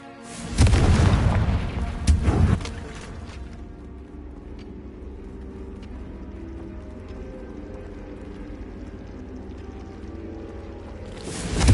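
Explosive fire-spell blast from Hogwarts Legacy, a booming burst with a second boom close after, then a lingering rumbling tail and low ambient game hum, with a fresh burst starting at the very end.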